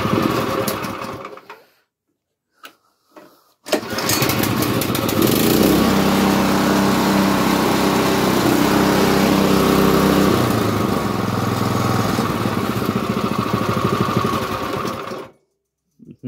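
Small single-cylinder engine of a late-1960s Montgomery Ward Gilson snowblower, newly repowered, starting after a few short pulls and then running loud and steady nearby with a buzzy, rapid idle before cutting off.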